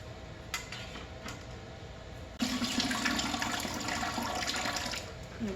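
Water runs into a canner being filled for home-canning sausage, starting as a quiet trickle, then surging into a louder, steady rushing pour from the midpoint on.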